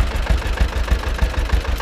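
An old Ursus tractor engine, a C 325 or C 360, idles up close with a steady, rhythmic knocking chug and thumping low pulses, and no one speaks.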